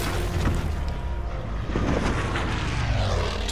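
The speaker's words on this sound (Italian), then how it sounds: "Aereo." A World War II airplane engine roars in Battlefield V, a loud, steady, dense drone that runs the whole time with combat rumble mixed in and no talking.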